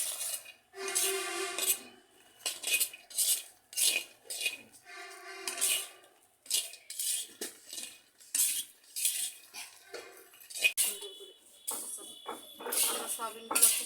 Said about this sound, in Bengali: আমরা সয়াবিনগুলো খুব সুন্দর করে ভেজে নিচ্ছি